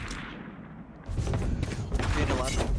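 Gunfire in the video game Valorant: sharp, dense bursts of shots that start quietly and then grow loud and rapid, with a voice talking over them.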